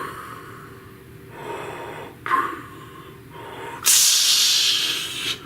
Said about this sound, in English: he's doing his usual signature breathing sound